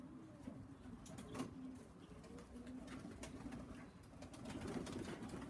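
Young pigeons cooing inside a loft, soft, low, repeated coos close by and faint, over a steady background hum, with no talking.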